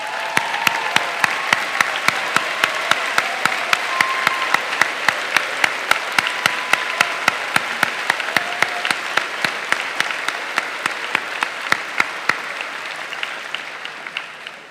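Sustained applause from an audience for students and families at a school ceremony, even and moderately loud, with a few sharper individual claps standing out before it thins toward the end.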